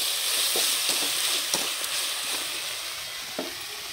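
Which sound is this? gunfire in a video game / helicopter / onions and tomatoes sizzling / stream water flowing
onions and tomatoes sizzling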